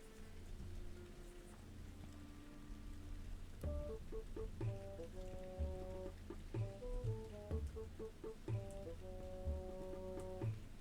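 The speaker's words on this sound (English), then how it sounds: "Also hope you enjoy the rain ASMR." Soft, steady rain hiss, faint and continuous, sits beneath gentle tonal musical notes that come in partway through.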